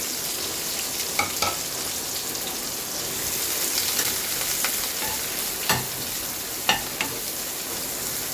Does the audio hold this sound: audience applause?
no